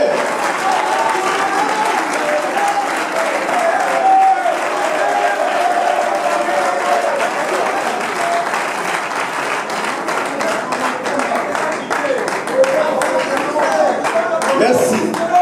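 Sustained audience applause and cheering at a youth conference, a long, dense wash of clapping with crowd voices mixed throughout, steady and fairly loud.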